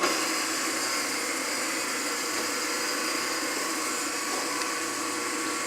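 A Durable CE22AV packaging tape sealer runs with a steady, even mechanical whir and hum that stays at a constant level throughout. No one speaks over the motor noise.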